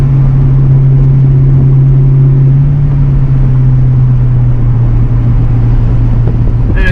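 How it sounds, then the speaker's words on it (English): A 1986 Ford Mustang GT engine runs lean while cruising, giving a loud, steady low drone with constant road and wind rumble and no break. "The car is running way too lean."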